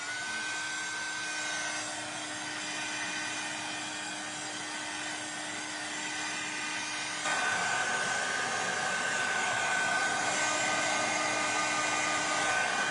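A hair dryer blows steadily over thick splattered paint on an art piece, a continuous whine with a constant hum that grows louder and harsher partway through as it moves closer. No talking.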